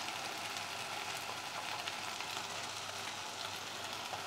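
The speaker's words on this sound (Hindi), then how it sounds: "ड्राई मसाले डालने के बाद हम एक से दो मिनट और भूनेंगे" Dry spices such as turmeric, coriander and cumin powder fry in oil in a pan over a low flame, giving a steady close sizzling hiss with soft stirring, no talk.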